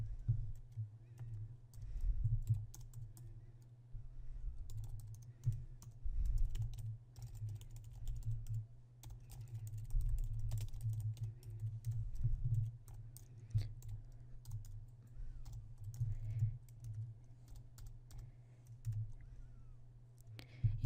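Steady typing on a computer keyboard while numbers and a dollar sign are entered into a word-processing document, with continuous soft clicking over a low background hum and no talk.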